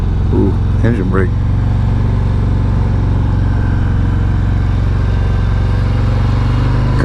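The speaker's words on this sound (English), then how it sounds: "Shift down into first. Ooh, engine brake." A 2023 Harley-Davidson Fat Boy 114 motorcycle engine rumbles steadily and loudly while engine braking in first gear, with a deep continuous drone and a brief voice speaking near the start.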